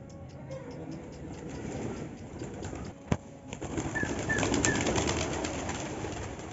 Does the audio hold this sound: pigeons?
yes